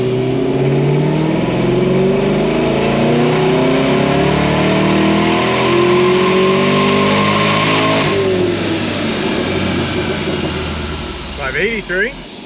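Supercharged Camaro on a dyno with a Corsa catback exhaust roars loudly through a sustained pull, the engine pitch climbing steadily, then dropping off and winding down near the end.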